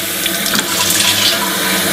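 Tap water runs steadily into a keg being filled for sanitizing, a continuous bright hissing splash with no voices.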